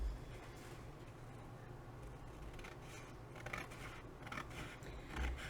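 Scissors snip down the seam of a paper folio, trimming half of it to 13.25 inches; steady close rasping cuts run through a quiet room with a couple of louder strokes near the end.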